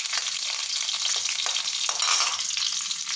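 Cinnamon bark and whole spices such as bay leaf sizzle and fry in hot oil in a pan, cooked for a Kumbakonam kadappa. The frying is a loud, steady crackle throughout, with stirring scrapes and no voices.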